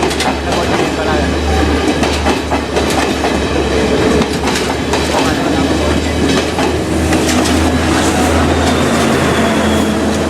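A Sri Lanka Railway express train rolls past close by, a steady loud rumble with clickety-clack wheel beats and faint metallic squeals throughout.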